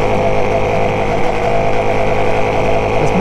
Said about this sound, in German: Jetzt merkt ihr hier am Anfang, wenn der Motor kalt ist, nimmt er echt schlecht Gas an.